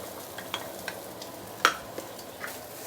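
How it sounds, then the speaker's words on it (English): Noodles and beehoon stir-fried with half-cooked egg for Singapore hokkien mee, giving a quiet, steady sizzle broken by a few light scraping clinks of a utensil against the pan, one sharper clatter standing out. "Now you want to stir fry these two together."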